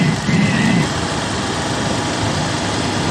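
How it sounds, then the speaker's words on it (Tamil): A motorbike engine hums steadily while riding with a couple aboard, a continuous even drone with wind rush and a brief voice near the start. "வண்டியில் பைக்கில் போயிட்டு இருக்கோம்"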